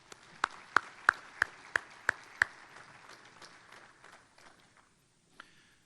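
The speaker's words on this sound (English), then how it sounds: "Let's all give them a big round of applause." Seven sharp, evenly spaced claps ring out at a Chamber of Commerce luncheon, then a light scattering of applause fades away to near quiet.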